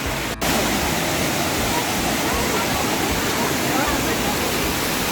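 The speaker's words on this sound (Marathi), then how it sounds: "धबधबा मस्त आहे" Roaring waterfall at Amboli Ghat in the Konkan, a loud, unbroken wash of rushing water filling the whole clip from close by.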